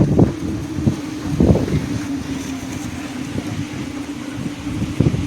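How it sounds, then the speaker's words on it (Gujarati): Strong wind blows outdoors, buffeting the microphone with low rumbling gusts and a steady whooshing roar. Several sharper blasts stand out over a continuous hum, and no voices are heard. "અત્યારે તો ભાઈ કંઈક ઝાઝ પવન આવવા માંડ્યો છે"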